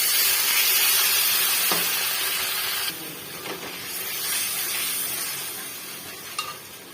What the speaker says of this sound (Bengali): এবারে উষ্ণ গরম জল এর মধ্যে দিয়ে দেবো।